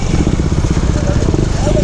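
A motorcycle engine idles steadily and loudly throughout, a low continuous rumble right after the bike has fallen over, with voices talking over it.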